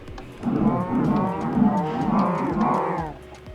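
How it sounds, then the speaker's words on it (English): Cows in the Minecraft Bedrock Edition game give a run of four or five deep, close, overlapping moos in steady succession, with no talk over them. "We've got 10 cows in here."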